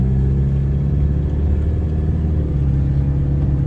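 A Pontiac Fiero engine runs steadily with a low, even rumble, heard from inside the moving car, with no voices.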